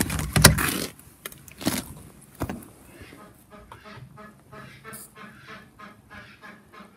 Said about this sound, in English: The ducks may or may not know I'm here yet.